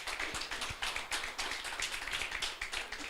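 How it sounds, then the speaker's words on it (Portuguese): Church congregation applauding during a Portuguese-language service, a steady dense wash of clapping that holds for about three seconds with no speech over it. "Você pode aplaudir ao Senhor?"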